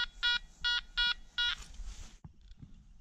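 A Makro Multi Kruzer metal detector sounds an interrupted signal tone while searching outdoors: four loud, evenly spaced bright beeps, followed by a soft thump and quiet rustling.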